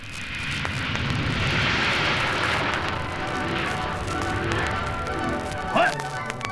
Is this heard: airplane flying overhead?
yes